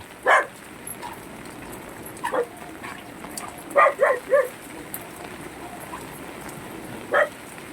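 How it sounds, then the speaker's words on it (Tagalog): A dog barks in short bursts during a typhoon, with about five loud yaps clustered at the start, middle and end against a steady hiss of rain. "Huwag mo akong tahulan."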